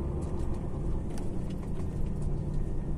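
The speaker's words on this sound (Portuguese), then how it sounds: "XF480 e freio motor, é ele o cara," DAF XF480 truck descending on its engine brake, a steady low mechanical rumble heard close and continuous throughout with no talk.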